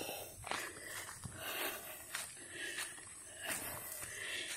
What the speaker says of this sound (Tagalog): Kaya hingal-hingal tayo.